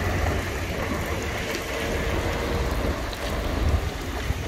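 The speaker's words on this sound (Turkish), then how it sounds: "Deli bir yağmur." Steady, dense heavy rain pouring down in Russia, a constant broadband hiss with low rumbling underneath and no voices.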